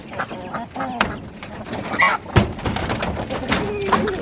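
Small chicks and adult hens in a backyard flock, with honking, clucking calls and some peeps scattered through the scene while a person talks over them nearby.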